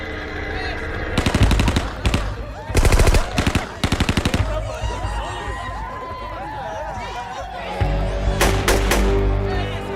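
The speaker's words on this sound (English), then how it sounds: "Someone cuts loose from the door of the hut with an AK-47 on full automatic." An AK-47 fires on full automatic in several sharp, loud bursts of rapid shots separated by short pauses. Voices and shouting carry between and under the gunfire.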